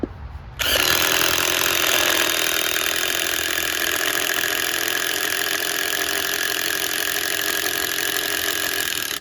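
A power drill bores into wood with a spade bit, such as an Irwin Speedbor or DeWalt bit. After a short quiet start, it gives a loud, steady, high-pitched whine that holds to the end.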